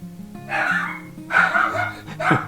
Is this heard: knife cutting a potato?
no